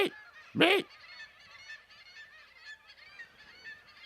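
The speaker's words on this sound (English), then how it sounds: "In a flock, they communicate with harsh squawks and body movements." Harsh squawking calls from a flock of seagulls, two loud close cries early on, followed by a steady chatter of fainter, overlapping calls in the background.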